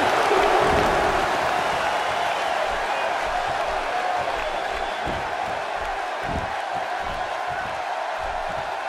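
Sold-out arena crowd in the WWE 2K16 wrestling game, Neville versus Ryback, a steady loud roar of cheering with bursts of thumping impacts running underneath throughout.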